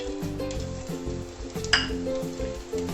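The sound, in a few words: green chilies sizzling as added to hot oil in pan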